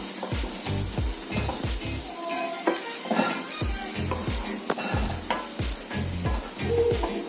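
Onions fry in oil in a pan for Burmese-style egg bhejo street food, a continuous crackling sizzle with irregular stirring scrapes and faint clatter, up close and steady throughout.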